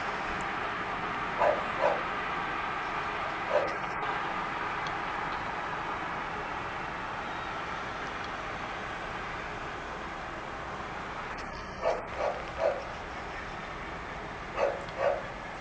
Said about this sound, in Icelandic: Eins og heyrið þá eru hundar út allt geltandi.